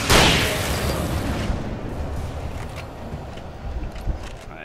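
A single loud shotgun blast from the video game Alan Wake goes off at the start, its booming report decaying into a long rumbling tail that fades over a few seconds.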